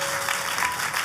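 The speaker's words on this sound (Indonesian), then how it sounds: "kalau mau tepuk tangan yang paling meriah" Short burst of dense clapping from a congregation during an Easter church service, loud and steady throughout.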